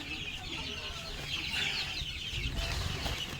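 Newly hatched chicks chirping in a brooder, a busy mix of thin, high peeps with soft clucking and faint rustling underneath, moderately close and fairly quiet, with no one speaking.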